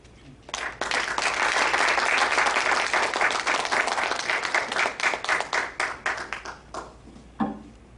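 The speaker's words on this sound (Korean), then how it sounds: "나오실 때 우리 환영의 박수 하시고요." A church congregation applauds in a sustained wave of clapping to welcome a pastor to the pulpit, loud and dense, then thinning into scattered claps before a brief voice at the end.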